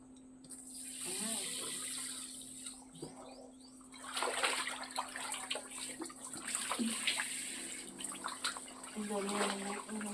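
Water runs continuously into a kiddy pool on a hot day, a thin steady hiss that carries through the whole stretch while people talk and children's voices rise over it.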